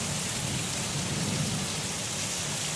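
Steady heavy rain pouring down, a dense continuous hiss with a low rumble underneath, with no voices.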